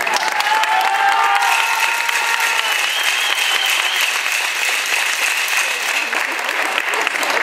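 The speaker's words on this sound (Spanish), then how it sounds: "a quien recibimos con un fuerte aplauso" Loud, sustained applause from an audience welcoming a candidate for local deputy at an outdoor campaign visit in Puxtla, with dense clapping steady throughout and a few voices calling out in the crowd.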